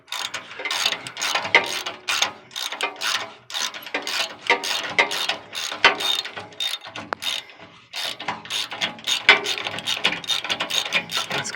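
A hand ratchet clicks in rapid, uneven bursts while loosening an exhaust bolt on a third-generation Chevrolet Camaro. The close, sharp pawl ticking comes in repeated strokes with brief pauses between them, and nobody talks.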